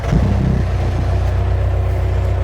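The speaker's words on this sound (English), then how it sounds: "Okay, now let's press this button and start the engine." A Wolf WS1100 skid steer loader's engine cranks and catches, then settles into a steady, loud, low idle close by; no one speaks.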